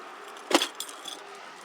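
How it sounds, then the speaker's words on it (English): Keys jangle as they go into the ignition of a Yamaha Majesty scooter: one sharp metallic clatter, then a couple of softer jingles that fade out, close by. "Now what I want to do is put the keys on, turn this thing,"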